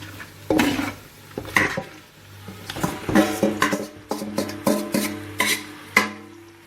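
A spoon scrapes and clanks against a pot as onion and lamb marinade are stirred together for lamb akni, a lamb and rice dish, in repeated close strokes with a soft sizzle underneath.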